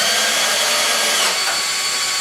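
Milwaukee cordless installation drill/driver driving a self-tapping screw, a loud steady high motor whine held without a break, close and alone.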